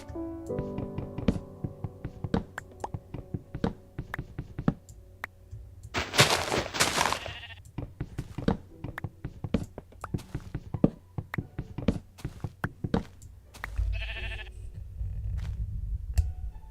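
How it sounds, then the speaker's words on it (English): Sheep bleat outdoors, a series of wavering calls scattered through the stretch, mixed with sharp taps and knocks and a burst of noisy clatter midway. "There's a sheep out there."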